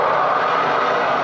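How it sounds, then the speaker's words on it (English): Steady traffic background ambience for a diecast car movie, a dense continuous wash of rumbling vehicles with no distinct passes, moderately loud and unbroken throughout. "So that's just traffic background sound."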